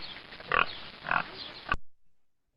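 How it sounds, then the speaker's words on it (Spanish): A pig grunting in three short, rough bursts at an even pace, close and fairly loud, ending in an abrupt cutoff and then silence. "Y por último, el sonido de un cerdo."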